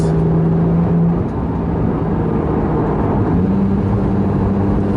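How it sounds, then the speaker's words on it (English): Rear-mounted engine of a 2014 Porsche 911 GT3 with PDK gearbox, heard from inside the car as a loud steady drone that steps up in pitch through gear changes while accelerating. "wow, what sound you get out the rear engine"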